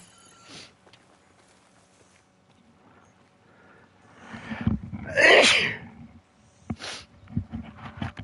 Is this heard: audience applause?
no